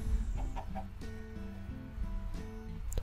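A chicken in the Minecraft video game gives a few short, soft clucks over a constant low in-game hum. The clucks are faint and spaced out, with no talking.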